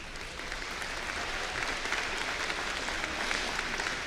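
A graduation audience at a summer master's degree commencement claps in a dense, even wash that holds steady, distant and moderately loud, with no voices above it.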